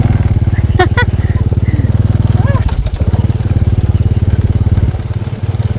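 A motorcycle ridden through water on a rural provincial trail, its engine chugging steadily and close throughout, with splashing and crackling spray, while voices call out briefly over it.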